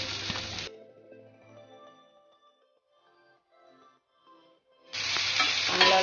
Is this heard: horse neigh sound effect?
no